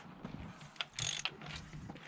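Lug nuts on a Mazda MX-5 wheel being cracked loose with a wrench, giving sharp metallic clicks and a brief creaking burst near the middle, close and moderately loud with no talking.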